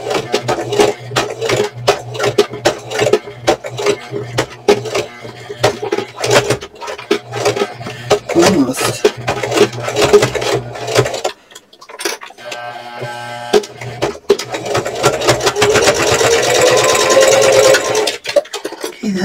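A sewing machine stitching slowly through many thick layers of a purse, a close, continuous run of clattering, ticking needle strokes with brief pauses, while someone talks over much of it.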